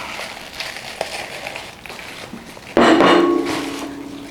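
Smoothie ingredients are poured into a container, giving a brief splashing, rattling pour that starts suddenly and sustains for a couple of seconds after quieter handling noises.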